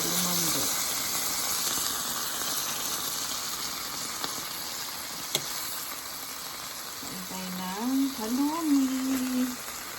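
Halloumi cheese frying in a pan makes a steady soft sizzle throughout, with a clack near the middle and a person speaking over the start and end.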